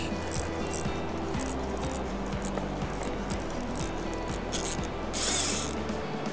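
A cheap 3D-printed fly reel's ratchet clicks steadily as a big trout pulls line, the fine rapid clicking heard over rushing river water.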